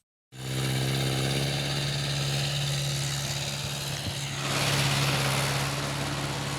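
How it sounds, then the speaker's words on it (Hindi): A tractor runs in a wheat field after seed and fertilizer are sown, its engine droning steadily and loudly throughout with a strong low hum and no speech. "बीज और खाद डालने के बाद यहाँ पे ट्रैक्टर चलाया जाता है।"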